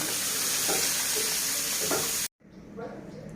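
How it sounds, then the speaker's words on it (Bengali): Hot oil sizzling in a pan as chopped onion and green chili go in for a koi fish and spinach curry; a steady close frying hiss cuts out briefly, then returns softer. "তেল গরম হয়ে গেছে, এবার পেঁয়াজ কুচি কাঁচা ঝাল দিয়ে দিলাম, দিয়ে ভেজে নেব"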